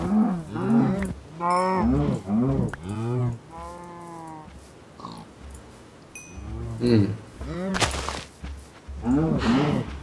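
Cows mooing in the video game Minecraft: a run of several drawn-out, groaning moos close together, some overlapping, with short pauses between calls.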